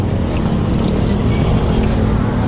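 Loud motorcycle engine running hard, a continuous rough drone held steady throughout with no voices over it.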